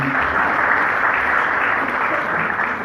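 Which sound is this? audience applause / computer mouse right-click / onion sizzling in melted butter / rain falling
audience applause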